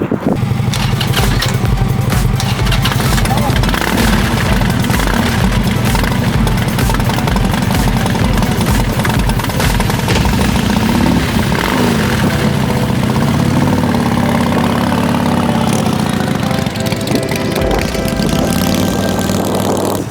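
A stretched Suzuki Hayabusa motorcycle at a biker meetup outside a bar and grill runs loud and close, its engine idling with a rough throbbing note before revving and pulling away, with no talk over it.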